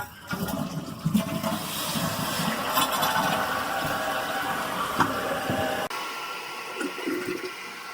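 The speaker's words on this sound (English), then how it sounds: "we're going to give it a flush just to make sure that it doesn't leak from the back or the sides" A toilet newly fitted with a rubber seal in place of a wax one flushes loudly and up close, with a rushing gush of water that gives way to a quieter refill near the end.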